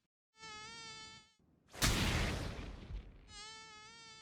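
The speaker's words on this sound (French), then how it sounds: "Viens là, saloperie de moustique de tes morts." A high, thin mosquito whine drones close by, breaks off for a sharp slap and rustle, then resumes just as steadily.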